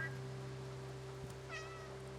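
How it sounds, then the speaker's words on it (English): A cat meows in the video game Stray, one short faint call early and a clearer drawn-out meow past the middle, over a steady low electronic hum. "There's 2 cats down there. They're meowing at me."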